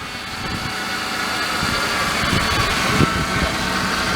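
An auctioned car sits with its engine at idle, a steady, close, rumbling drone with a constant hum and no speech over it.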